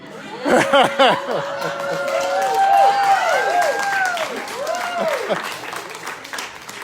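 A crowd at a political rally claps steadily while voices cheer and call out over the applause, with the noise swelling early and then settling into a sustained patter.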